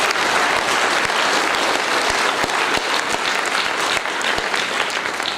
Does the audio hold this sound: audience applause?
yes